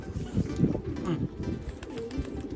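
A racing pigeon back from a 640 km race arrives at its loft, with soft, low cooing close by repeating through the moment.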